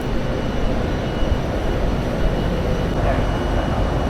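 A Glasgow Subway train rumbles into an underground station, a steady low roar with rail noise that holds at the same loudness throughout, close by and with no talk over it.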